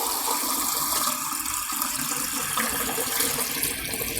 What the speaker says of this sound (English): So this is tap water, but it's filtered tap water.